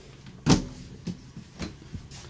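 Kitchen drawers in a 2019 Thor Four Winds 28Z Class C RV slide open: one firm knock followed by several lighter thumps and rattles, close by and with no talking.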